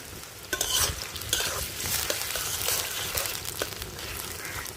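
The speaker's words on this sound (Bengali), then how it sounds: "দিয়ে দিল পেঁয়াজ কচি ভাজো সুন্দর করে" Onions fry in a pan with steady sizzling and occasional stirring scrapes for a village-style desi chicken curry with potatoes; the sizzle stays loud and continuous throughout, with no talk.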